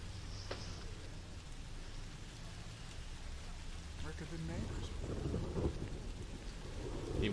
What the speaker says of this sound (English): He really does not like going out into the rain.